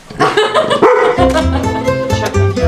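A dog barks several times up close and loud, with yelping, whimpering tones between the barks.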